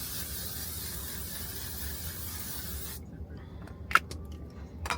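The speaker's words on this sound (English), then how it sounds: "3-second setting spray." L'Oreal 3-second setting spray misted onto a face during a makeup routine: one continuous close hiss lasting about three seconds that cuts off abruptly, followed by a few faint rustles and small handling sounds.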